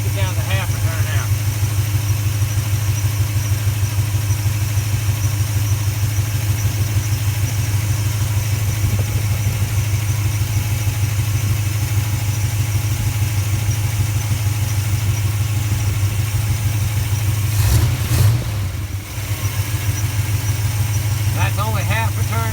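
An engine running a 4-barrel carburetor on a 2-barrel intake idles loudly and steadily with a deep, even rumble and a slightly uneven lope. A brief clatter breaks in near the end.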